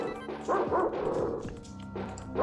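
An angry dog in the Earthworm Jim video game barks several times in quick yapping bursts, close and fairly loud over game music.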